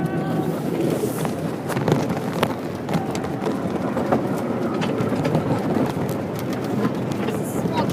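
A small seven-car tourist train on the Smith Ranch and Julian Railroad rolls along with a steady low rumble and rattle, heard from onboard amid wind buffeting and faint voices.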